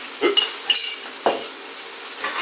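Chilli con carne mince is stirred around a hot pan, a steady sizzle broken by a few quick scraping pushes and light utensil clinks, close and fairly loud.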